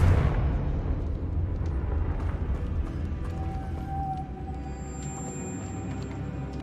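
An explosive Confringo fire-blast spell bursts in Hogwarts Legacy, opening with a loud booming blast that settles into a steady rumbling roar and a faint ringing tone.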